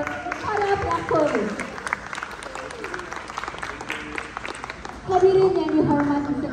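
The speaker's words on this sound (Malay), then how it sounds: "Berikan tepukan gemuruh kepada para pelakon." An audience applauds the Makyong performers at a staged show, a steady wash of clapping that swells near the end while a presenter speaks over it.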